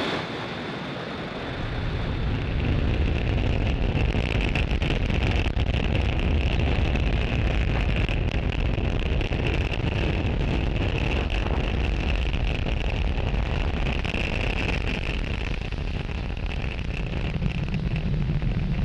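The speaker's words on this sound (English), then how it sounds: "Falcon 9 has successfully lifted off from Space Launch Complex 40 from Cape Canaveral, Florida" A SpaceX Falcon 9 rocket lifts off from Space Launch Complex 40 at Cape Canaveral, Florida, with a sudden onset of loud, dense, rumbling roar that holds steady and crackling for many seconds.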